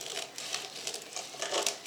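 Paper folded and creased into the corners to line a cake tin for an orange filo cake, giving close, irregular crinkling and crumpling rustles that flare in short bursts throughout, with no talking.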